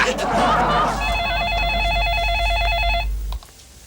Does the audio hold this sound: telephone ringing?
yes